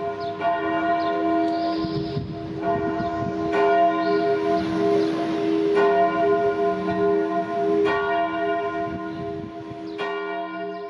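Pierre et Jean, a church bell in Lyon tuned to F, rings in repeated strokes, each loud ringing hum swelling and decaying into the next, heard at a distance with no voices.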